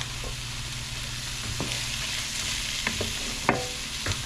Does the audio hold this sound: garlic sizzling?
yes